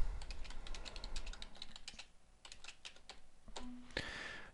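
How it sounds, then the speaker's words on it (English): A computer keyboard clatters as a caption is typed, quick irregular keystrokes close by, pausing briefly midway before a few more taps and a short clicking sound at the end. "Now let's type the caption that we want."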